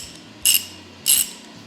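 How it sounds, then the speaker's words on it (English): A socket wrench ratchets in two short, crisp bursts of clicking about half a second apart, close and fairly loud against a quiet background. "Anyway, socket set, very handy, great tool to have."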